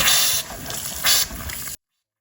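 Water gushes into a replacement hot water heater tank as it fills, a loud steady rushing flow with two brief surges, ending abruptly.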